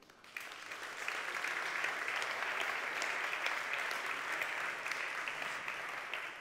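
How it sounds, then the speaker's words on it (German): An audience at the opening event of a digital learning conference applauds a crew member, a steady, full round of clapping that swells after a brief moment and holds throughout. "Ein Applaus für Lutz."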